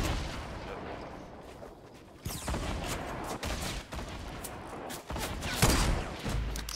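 Gunfire in Fortnite, a sniper rifle shot among loud bursts and booms spread across the clip, with players talking over the action.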